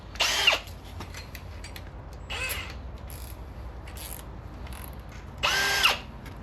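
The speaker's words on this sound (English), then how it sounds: "So now I can step up to my 7/16 bit." Three short bursts of a power drill whirring against an aluminum axle tube on a Barbie Jeep, each about half a second, separated by pauses with quiet background hum.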